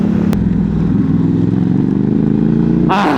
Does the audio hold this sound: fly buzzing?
no